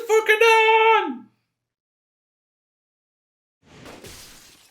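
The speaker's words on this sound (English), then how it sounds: "She pulled the trigger, but her shot went wide, shattering the window of a nearby car." In the video game 428: Shibuya Scramble, a gunshot shatters a car window: a short shouted voice, then silence, then a sudden crisp burst of breaking glass that tails off with scattering fragments.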